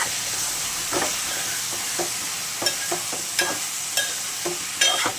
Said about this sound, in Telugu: ఇప్పుడైతే మనం అట్టిక ముక్కలు అయితే వేసుకోవాలి మొత్తం వేసుకున్న తర్వాత ఒకసారి కలుపుకోవాలి